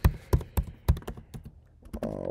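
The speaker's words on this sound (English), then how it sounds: "type in Eternl wallet." Keystrokes on a computer keyboard typing a search into a browser, a quick irregular run of close, crisp taps and thunks with a short pause before the last few.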